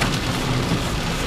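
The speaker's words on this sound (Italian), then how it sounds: "qui diluvia come vedete" Heavy rain pours down steadily during a downpour on a mountain road near Genga San Vittore, with early flooding nearby, a dense, loud, continuous hiss with no pauses and no voices.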